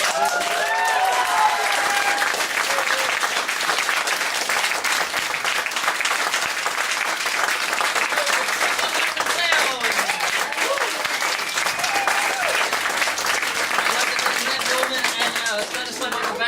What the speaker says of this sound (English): So if we can have one more massive round of applause